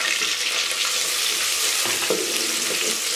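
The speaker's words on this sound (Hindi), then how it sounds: "अब हम इसको इतना भून लेंगे कि जो टमाटर है वो गल जाए।" Chopped onion and tomato fry in a pan for fish curry, with a steady, dense sizzle and a few soft stirring scrapes, close and continuous.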